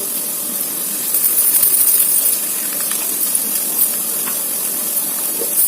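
An egg fries in a hot pan, giving a steady high hiss and sizzle with faint crackles, close up and continuous with no talking.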